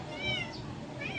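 A cat meowing from nearby on a house roof, two drawn-out wavering cries over low background noise.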